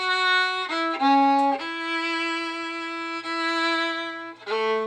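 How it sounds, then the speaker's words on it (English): Violin playing tied notes split into two separate bow strokes, sustained singing tones with brief breaks where the bow changes, close and clear with nothing else heard. "A lot of people play them in two bows so that it sounds like this."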